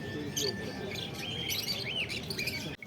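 Caged emu finches and other small finches chirp and tweet in quick overlapping bursts at a busy outdoor bird market, moderately close over a low crowd murmur.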